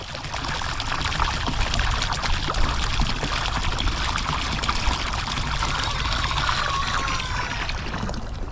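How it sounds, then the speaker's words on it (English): Water from a pump system trickles and pours steadily during a dry season, a continuous splashing flow that stays fairly even throughout, with no voices. "I just needed the water to quit flowing"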